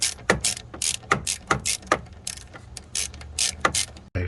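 Socket wrench ratcheting repeatedly on the 8mm battery terminal nut of a 2008 Ford Escape V6 XLT, a steady run of close, crisp clicking strokes about every half second, with no voices.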